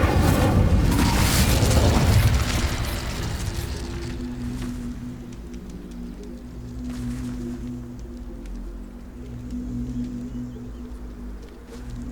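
A fiery Incendio spell cast in Hogwarts Legacy bursts out as a loud, roaring blast that fades within about two seconds into a lower rumble with steady tonal game sound underneath.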